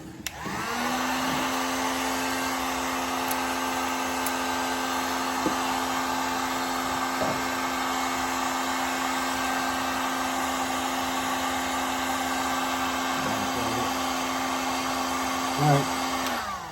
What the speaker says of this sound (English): we got the heat gun